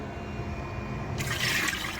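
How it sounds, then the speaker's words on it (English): Liquid is poured into a pot at a truck campsite stove, a soft steady trickle that turns into a brighter, louder splashing pour partway through. "So we're gonna take that, pour it in here"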